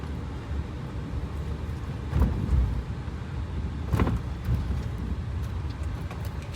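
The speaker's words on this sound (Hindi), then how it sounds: "देखा अभी कितना बड़ा सा गड्ढा जो है वो चला गया है।" Car cabin rumble while driving slowly on a rough road, heard during a used-car inspection, with two dull thuds as the wheels drop through potholes and the suspension knocks over a steady low road noise.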